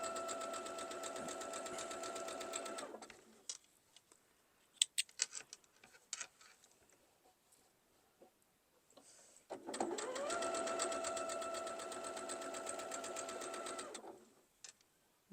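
A sewing machine stitching a quilt block, two bursts of fast rhythmic stitching of about three and five seconds separated by a quiet gap with faint clicks and handling sounds.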